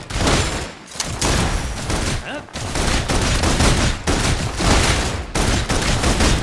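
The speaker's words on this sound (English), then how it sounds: "Requesting full suppression gunfire." Gunfire from the video game Love and Deepspace: dense fusillades of rapid shots burst in repeated loud waves, separated by brief gaps, with sustained automatic fire.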